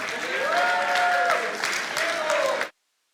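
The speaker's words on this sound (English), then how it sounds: "a round of applause, please?" Audience applause at a gala event for a development bank's 20th anniversary, a steady broadband clapping wash lasting nearly three seconds, with a voice or tones sliding over it, then stopping abruptly.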